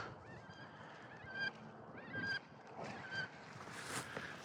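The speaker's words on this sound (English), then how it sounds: "Here comes a pair of wood ducks." A pair of wood ducks call over a spring beaver-trapping wetland, giving several short squealing cries at moderate distance over soft outdoor background noise.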